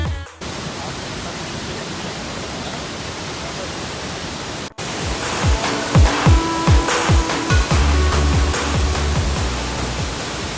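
Turga Falls, swollen after days of rain, gives a steady hissing roar of rushing water. After a brief cut, the rush continues with a few low thumps underneath.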